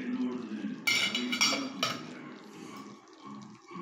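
A cooking vessel's lid is lifted off a pot of steamed sweet made from sugar, milk and eggs, giving a few sharp metallic clinks and clatters close by before fading into quiet kitchen background, with some talk around it.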